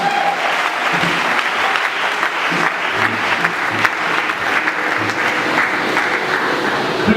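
A church congregation at a Sunday worship service applauds, sustained dense clapping from many hands filling the room, steady and fairly loud throughout with faint voices underneath.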